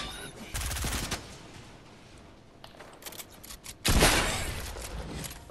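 Bursts of video game gunfire in an online shooter match, one rapid volley near the start and a louder, sustained burst later, with quieter scattered shots between them.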